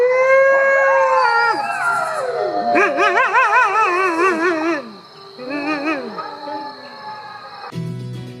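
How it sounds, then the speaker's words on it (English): A wolf pack howling together, several overlapping voices gliding and wavering in pitch, some rising and warbling while others slide down, fairly close and loud over a steady high insect buzz, ending with a brief burst of different noise. "Not just one of them, the whole pack will howl"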